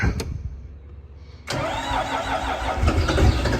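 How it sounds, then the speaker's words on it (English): A bulldozer engine cranks briefly, catches and fires up, then settles into a loud, rough, rumbling idle that grows slightly stronger toward the end, with no voices over it. "Start with the bulldozer."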